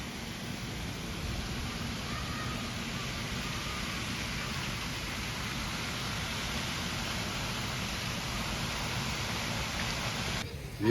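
Steady rain falls at a state park diamond-digging field during flash-flood weather, a continuous close hiss of drops on the ground that holds evenly throughout.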